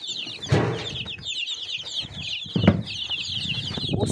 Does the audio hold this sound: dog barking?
no